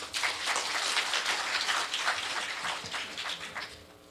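Steady rain falling outside, a dense, even hiss of countless drops hitting surfaces that stays constant throughout, with no one speaking.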